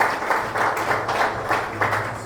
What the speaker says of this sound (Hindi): एकदम जोरदार तालियां